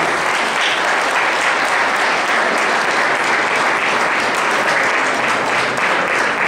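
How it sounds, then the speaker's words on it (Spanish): Loud, sustained applause from an audience of students at a lecture, a thick, even roar of clapping that continues without letup for over six seconds. "vamos a recibir con un fuerte y caluroso voto de aplausos al doctor Robinson González Campos"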